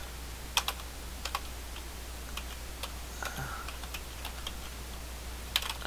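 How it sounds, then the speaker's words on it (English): A computer keyboard clicks with sparse, irregular keystrokes, soft and close over a steady low hum in a quiet room. "Okay, so I'm gonna have to type this."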